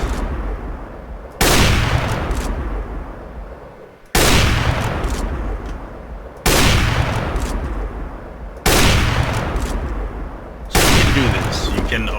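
Loud gunshots in a first-person shooter on the Aim Botz training map, five single sharp blasts spaced a couple of seconds apart, each with a long ringing decay.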